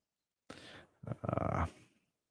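A dog growls in short bursts: one brief snarl, a pause, then a longer, louder rumbling growl that fades out, heard alone against silence.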